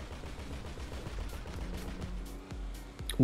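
Gunfire in GTA Online rattles off in rapid repeated bursts, steady automatic shots at a moderate distance under game ambience, with a sharper louder crack at the very end.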